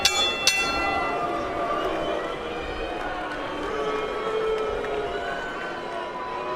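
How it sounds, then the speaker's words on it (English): A boxing round bell rings twice in quick succession at the start of a pro fight, sharp but fairly faint under steady crowd noise and ringside commentary. "As we head for the bell."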